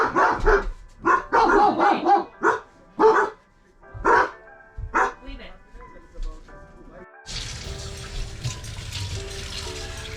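Dogs bark in a series of sharp, close barks and yips, some in quick pairs, tapering off before a running tap starts up as dishes are washed inside a converted school bus.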